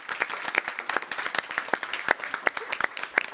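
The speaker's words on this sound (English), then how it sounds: "I feel like we are missing a round of applause here for the audience voting" Audience applause at an award ceremony, made of distinct individual claps in an irregular rhythm, fairly sparse and close rather than a dense roar.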